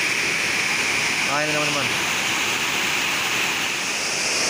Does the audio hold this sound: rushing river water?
yes